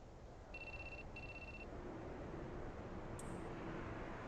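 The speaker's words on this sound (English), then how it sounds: "I think that's your phone going off." A phone rings in a video game, two short electronic ring bursts close together, faint over a steady rumbling background, followed by a brief higher chirp.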